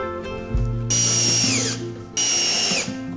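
A power drill drives screws into Western Red Cedar while a pollinator house roof's ridge cap is fastened, with two loud whirring bursts after a brief clunk, each spinning for about a second, close by.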